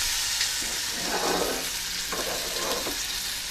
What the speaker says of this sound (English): a little bit of olive oil, preheated pan, and the tuna is only cooked in your fry pan